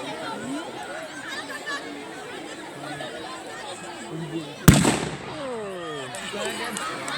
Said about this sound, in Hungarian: milyen hangos volt ez a félelmetes 6 fontos ágyú a magyar oldalról